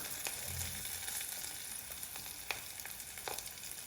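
Spices tempering in hot oil for a Punjabi home-cooked dish give a steady, close sizzle and crackle, with a few sharp pops rising above the continuous frying hiss; no one speaks.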